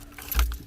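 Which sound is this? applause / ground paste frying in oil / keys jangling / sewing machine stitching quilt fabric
keys jangling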